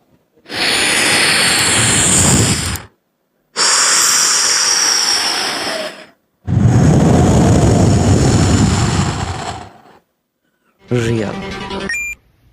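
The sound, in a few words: beatboxer imitating an air sound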